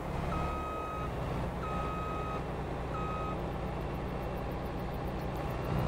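A Farming Simulator 22 farm vehicle sounds three evenly spaced reversing beeps, each lasting about a second, over a steady low engine drone that continues after the beeping stops.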